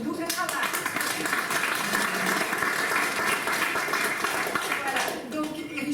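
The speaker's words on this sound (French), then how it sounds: "mais Richard Cubzac, donc on peut l'applaudir pour son double travail." A theatre audience applauds the director after a performance, a broad wash of clapping across the hall, fairly loud and continuous, with a voice speaking faintly beneath it.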